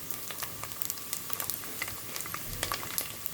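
Steady, soft sizzling and crackling of pili nuts frying in honey in a pan, with no voices.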